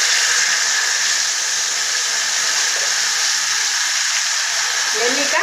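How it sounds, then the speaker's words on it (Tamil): Mustard seeds spluttering in hot oil on a gas stove, a steady dense crackling hiss that continues without a break for the whole stretch, close and fairly loud, with no talking over it. "கடுகு நல்லா பொரியுது"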